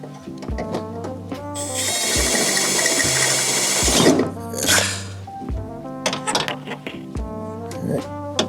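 A power drill with a 1/4 inch bit bores through sheet metal in a vehicle engine bay while an on-board air compressor and dual battery tray are fitted: a shrill two-second whine amid metallic clunks, knocks and handling noise before and after.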